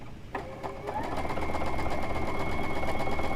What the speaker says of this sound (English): So we're just going to sew those two seams